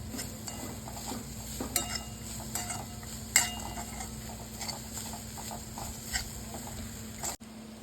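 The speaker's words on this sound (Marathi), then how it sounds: "गूळ छान मेल्ट होईपर्यंत आपल्याला ते ढवळायचंय" Jaggery melting in ghee is stirred in a pan, a soft steady scraping with light spoon taps and clicks over a low hum, no voices.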